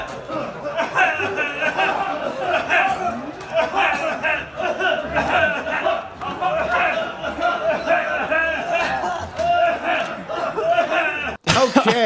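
Protesters coughing in unison at a cough-in at Trump Tower, a dense continuous crowd din of coughs, throat clearing, shouts and chatter, loud and sustained, ending with an abrupt cut.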